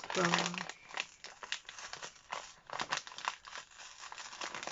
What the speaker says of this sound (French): Je vais ouvrir cette enveloppe.